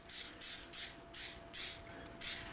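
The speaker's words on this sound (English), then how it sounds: "and I'm just going to spray it in here." Coconut oil cooking spray is sprayed into a pan in seven short, regular hissing bursts, close and fairly loud, with no talk.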